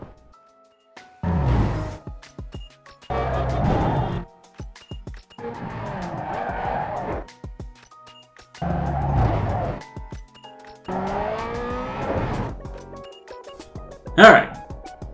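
Cars race in the street-racing video game Need for Speed Underground 2: five separate bursts of revving engines and squealing tyres, each a second or two long, with silent gaps between them and a sharp bright hit near the end.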